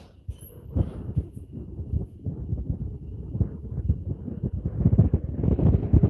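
Gusty wind buffeting the microphone in low, uneven rumbles that swell and grow stronger toward the end, with no voices.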